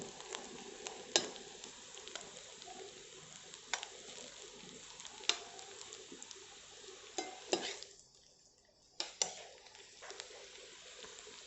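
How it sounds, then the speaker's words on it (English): Quiet, steady sizzling of onion frying in a pan, with a few sharp clinks and scrapes of a utensil and a brief lull near the end. "let me concentrate on frying the onion"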